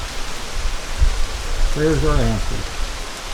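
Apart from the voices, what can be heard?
rain falling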